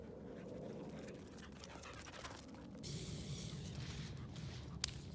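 Several excited dogs pant and whimper steadily and close by, a continuous breathy rhythm with occasional higher yelps.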